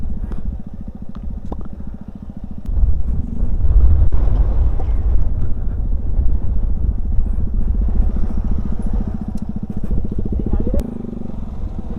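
Touring-style motorcycle ridden slowly on a hilly route to a sunset point near Nashik, its engine running steadily and loudly up close with wind buffeting and rattles of fibre body parts, rising briefly in revs mid-ride.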